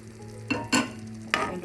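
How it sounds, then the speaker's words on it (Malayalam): A green prawn curry, with coconut milk added, is stirred in a pan. Three quick scraping strokes rise over a low steady hum, with no talking. "വീണ്ടും ഒന്ന് ഇളക്കി കൊടുക്കാം."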